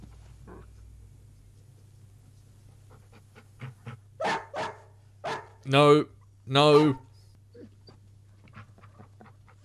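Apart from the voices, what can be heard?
dog barking and whimpering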